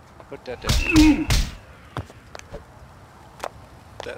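In the video game Oni, the Scatterball gun fires a short, loud whooshing blast with a whistling tone, followed by scattered thuds and knocks, while a voice talks over the opening burst.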